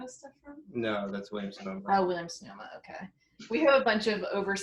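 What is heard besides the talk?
No distinct noise like a dog, phone or traffic.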